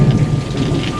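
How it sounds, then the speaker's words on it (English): Steady rain pours outdoors with deep thunder rumbling underneath, a continuous, fairly loud storm wash with no voices. "It's definitely raining"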